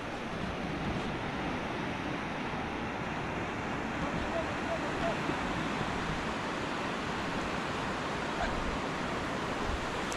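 Ocean waves at a beach in the morning, a steady broadband wash of surf with wind noise across the microphone, continuous and fairly loud throughout with no clear breaks between breakers.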